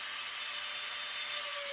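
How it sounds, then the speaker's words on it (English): A rotary burr grinds steadily into wood to widen a hole, producing a continuous close-up hissing rasp with no pauses and no voices. "So I'm going to come back with the burr again."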